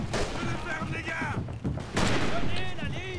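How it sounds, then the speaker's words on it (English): Rapid machine gun fire rattles in the World War I trench shooter Verdun 1914-1918, dense bursts of gunshots at mid distance while someone talks over them. "They've got an MG in there."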